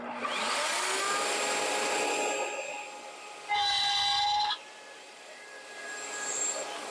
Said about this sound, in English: I'm going to cut a 1/4 inch dado in it. I've got a 1/4 inch mortising bit set up.